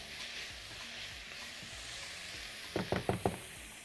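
Sausage pieces frying in a pan for sausage pasta give a steady soft sizzle, with four quick knocks or stirring taps near the end.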